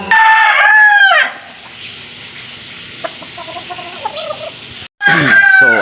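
A rooster crows loudly nearby, followed by soft clucking from molting chickens, then another loud crow begins.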